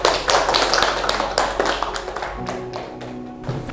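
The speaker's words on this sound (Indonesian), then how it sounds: "Beri tepuk tangan untuk kita semua dan 3 anak yang sudah menjawab tadi dengan betul ya." Children in an Indonesian Grade VII language classroom clap together, a dense run of close, sharp hand claps that thins out toward the end with some low hum underneath.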